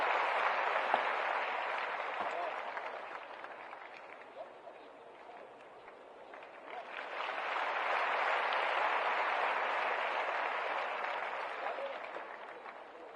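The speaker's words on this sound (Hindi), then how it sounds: "तालियां बजती रहनी चाहिए," An audience claps at a public gathering in Bihar, producing a steady wash of applause that dips in the middle and swells again, continuous and moderately distant.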